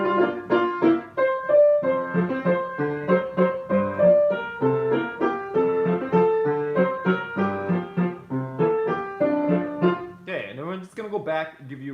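A solo piano plays a waltz in a lilting triple-time melody with chords underneath, close and clear, ending with a brief higher flourish, with no talking.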